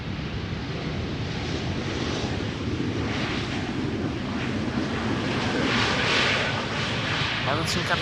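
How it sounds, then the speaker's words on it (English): A KLM Embraer 190 airliner arriving at Schiphol produces a continuous broad jet rumble mixed with wind buffeting on the microphone, holding steady and fairly loud throughout. "This is KLM flight 1884 arriving from Nuremberg. Embraer 190"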